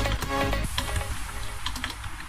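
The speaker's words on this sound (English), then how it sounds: "I'm bad at hitting the keyboard without looking at it sometimes" Fingers tap a password on a computer keyboard while installing Windows in a virtual machine: a quick, uneven run of close key clicks over steady background noise.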